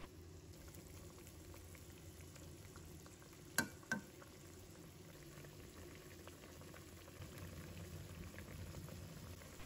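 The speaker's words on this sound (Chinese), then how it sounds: "煮开后，再把煎好的豆腐给倒进来，然后让豆腐给它泡在汤汁里面，将它煮1分钟。" Pan-fried tofu simmering in boiling broth in a home kitchen wok, a steady low bubbling hiss throughout with two brief sharp clinks near the middle, no voices.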